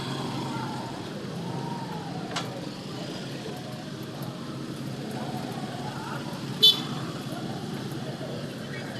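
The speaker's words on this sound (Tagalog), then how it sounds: "Traffic na, traffic." Evening street traffic around a parade in Tandag City, Surigao del Sur, a continuous low rumble of vehicles with a short horn-like blast near the end and a faint earlier tone, while voices chatter in the background.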